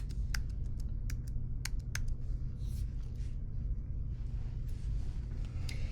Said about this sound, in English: Then we type our message.